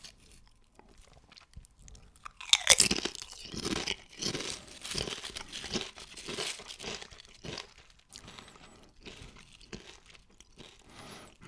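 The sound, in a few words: eating Doritos and Crunchips crisps, crunching and bag crinkling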